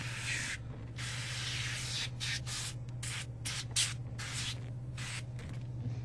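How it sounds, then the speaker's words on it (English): Several quick bursts from a spray bottle of interior cleaner hiss close by in an irregular rhythm over a low steady hum, spraying a car interior and instrument cluster. "I'm also going to kind of spray the cluster down."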